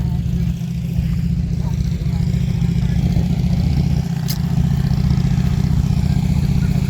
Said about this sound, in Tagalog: Ay, yung mga motor.